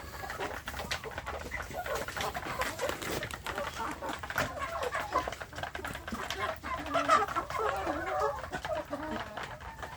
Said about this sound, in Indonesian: ini untuk anak ayam kampung saya ini ada di kandang umbaran terbatas